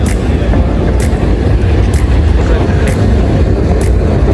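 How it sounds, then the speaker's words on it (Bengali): A tram rolls along tracks laid down the middle of a street in Palma de Mallorca, giving a loud, steady rumble with faint regular clicks throughout. "দেখেন আপনারা ট্রেনটা চলতেছে।"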